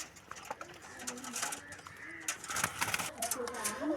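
Domestic pigeons coo softly with repeated low throaty calls close by, mixed with rustling and handling noises while someone talks over them.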